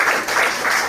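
A kirtan audience's applause at a parents' feedback event for a teacher at a coaching class, a dense steady wash of many hands clapping together, loud and continuous without a break.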